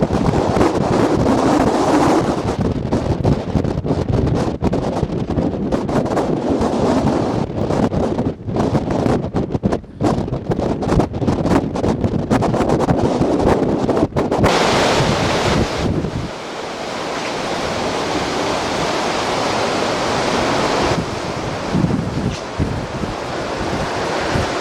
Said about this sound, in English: You can just sit here and watch the waves.